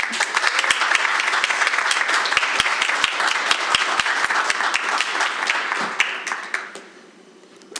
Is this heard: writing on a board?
no